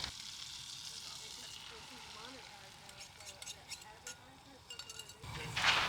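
Butter warms and faintly sizzles in a hot pan before scrambled eggs go in, a soft low crackle with occasional light clinks of utensils and a louder burst near the end.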